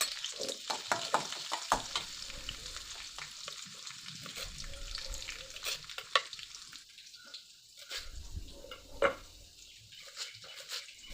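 Green chillies dropped into hot oil with garlic, a faint, uneven sizzle broken by soft clinks and stirring scrapes in a home kitchen.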